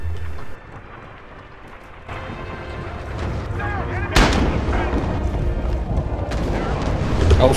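Mortar explosions in the video game Rising Storm, booming and rumbling in loud bursts over constant battle noise with gunfire, growing heavier toward the end while players talk over it.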